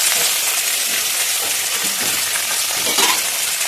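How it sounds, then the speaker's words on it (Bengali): Curry leaves and chopped garlic hitting hot oil in a pan for a South Indian potol curry, giving a loud, dense, continuous sizzle and crackle with light stirring and no talk. "এবার দিয়ে দিচ্ছি কারি পাতা"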